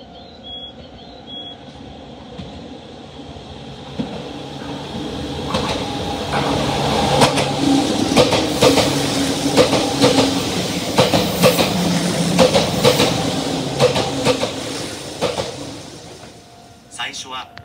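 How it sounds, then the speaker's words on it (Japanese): A non-stopping train rushes through platform 2 of a Japanese station, rising from a distant rumble to a loud clattering pass with rhythmic wheel clacks, then fading; a station announcement chime and voice are heard at the start. "2番線の電車は通過電車です。"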